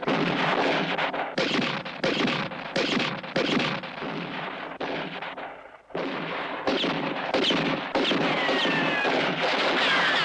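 Sustained gunfire from a western shootout, dense bursts of overlapping shots that roar loudly with a brief lull mid-way before resuming at full intensity.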